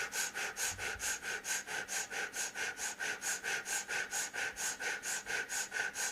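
Breath of fire breathing exercise: rapid, rhythmic, forceful nasal breaths, about three to four per second, even and continuous, close and fairly quiet, with no talking.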